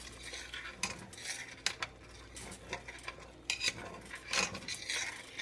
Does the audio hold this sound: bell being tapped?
no